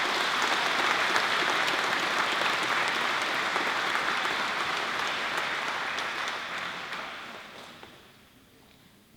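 Sustained audience applause for award-winning students at a 2019 school awards presentation, a dense, even wash of clapping from a large room that holds steady for several seconds, then thins and fades out near the end.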